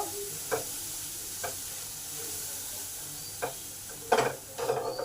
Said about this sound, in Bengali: এই সময় পেঁয়াজ আর টমেটো বাটাটা দিয়ে দিলাম। এটা মশলার সঙ্গে ভালো করে কষে নেব।